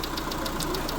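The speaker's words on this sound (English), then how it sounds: "Let's listen to the engine though, and you can hear it purring away nicely" A Mitsubishi 1.8 litre engine in a Proton Coupe idles steadily, a close, even mechanical hum with a faint regular ticking knock running through the whole second.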